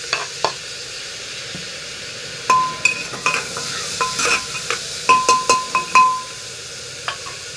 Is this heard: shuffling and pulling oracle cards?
no